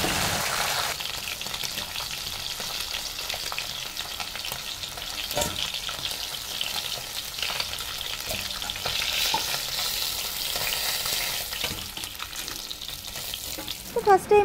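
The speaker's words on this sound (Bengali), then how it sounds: "মাছটা ধুয়ে নুন হলুদ মাখিয়ে এখন ভাজতে শুরু করে দিয়েছি" Khoira fish, washed and coated in salt and turmeric, fry in hot oil in a pan, giving a loud, continuous close-up sizzle with a few scraping stirs near the end.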